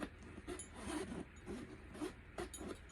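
The zipper on a Dooney & Bourke pebbled-grain leather large domed satchel is pulled open in several quick rasping strokes, close and fairly loud, with short pauses between the pulls and no talking.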